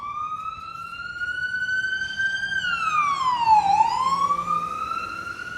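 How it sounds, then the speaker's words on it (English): A single emergency-vehicle siren wails nearby on Dundas Street West in Toronto, holding a steady tone before sweeping down and back up, over a low hum of city street traffic. "It's not a video in Toronto without sirens, but that's the big city for you"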